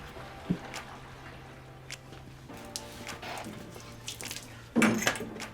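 Water runs into a tank for mixing herbicide, enough for four acres at 40 gallons, with a steady low flow, scattered splashes and clunks, and a louder gush near the end.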